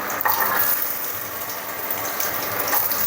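Garlic fries in hot oil for an onion chutney, giving a loud, dense, continuous sizzle that stays close and steady throughout with a few brief crackles and no voices.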